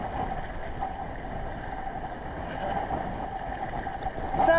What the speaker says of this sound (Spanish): sopla tanto el viento que intimida